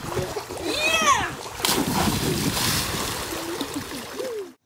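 A person jumps into a swimming pool, a loud close splash followed by sustained sloshing and churning water, with children's voices and excited shouts heard over it.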